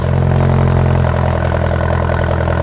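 A Ford Bronco fitted with a muffler delete exhaust idles loud and close, a steady throaty rumble with a rapid mechanical patter running unbroken throughout.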